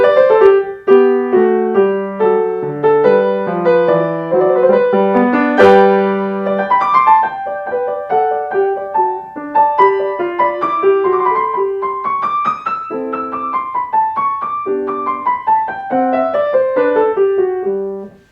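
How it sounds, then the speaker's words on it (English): Solo piano playing the first movement, Allegro ma non troppo, of Beethoven's Sonata in G Major Op. 49 No. 2, with clear, steady melodic lines over a moving accompaniment, close and at an even, moderate loudness throughout. "how to teach the Beethoven Sonata in G Major, Opus 49, number 2, the first movement"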